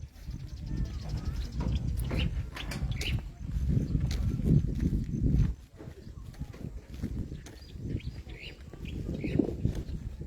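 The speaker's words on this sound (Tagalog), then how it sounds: "May ibon. Naririnig ko tunog. Oh, dami na ibon." Birds chirp and call in the background at an outdoor event area in Baras, Rizal, partly masked by steady outdoor rumble and people talking nearby.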